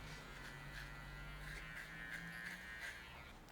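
An electric hair clipper buzzes steadily while trimming hair for a high fade, a close, continuous motor drone with slight shifts in pitch as it moves across the head, no voices.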